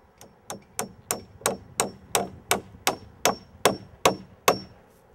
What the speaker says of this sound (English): I'm just going to get in here and toenail my joist in, tighten it up.